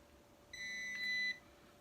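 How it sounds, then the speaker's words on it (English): A Nokta Makro Pulse Dive underwater metal detector gives one long, steady electronic beep lasting just under a second, clear and moderately loud against a quiet background. "a long beep."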